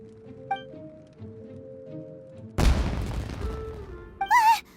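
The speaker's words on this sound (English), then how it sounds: "Huh? Was that an explosion? It sounded like fireworks." Fireworks go off in the video game Genshin Impact, a sudden loud boom followed by a crackling, rumbling burst that fades out, with a short high whistling flourish at the end over a quiet musical background.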